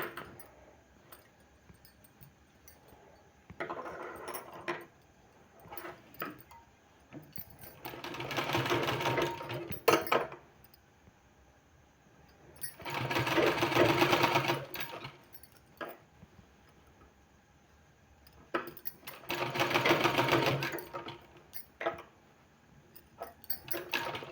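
A sewing machine stitches a sleeve in three distinct whirring runs of several seconds each, separated by quieter pauses with faint handling clicks, close up and with no talking.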